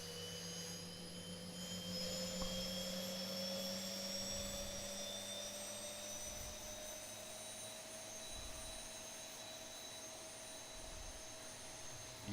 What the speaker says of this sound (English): you see how the engine is firing up there?